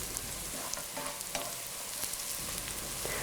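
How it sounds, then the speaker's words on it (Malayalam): Onions sautéing for egg biryani over a medium flame, a continuous close sizzle broken by light clicks of a spoon stirring, steady and without voices. "ഒരു മീഡിയം ഫ്ലെയിമിൽ വെച്ച് വേണം ഇത് വഴറ്റാൻ."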